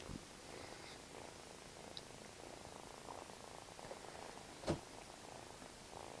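A kitten purrs softly and steadily close by, a low continuous rumble. A brief sharp noise cuts in near the end, and no one speaks during it.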